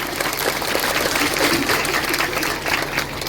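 A crowd at a Bihu festival stage show claps steadily and loudly for several seconds, a dense, even wash of applause heard close.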